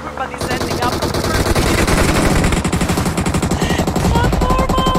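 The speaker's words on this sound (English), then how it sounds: "How many shots are happening now as we speak?" Dense, rapid gunfire from PUBG Mobile, sustained machine-gun bursts overlapping almost without pause, loud and continuous throughout, with a voice faintly mixed in.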